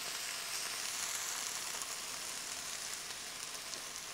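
Bolognese sauce with sausage meatballs simmering in a pan, a soft steady sizzle with faint stirring, quiet and without voices.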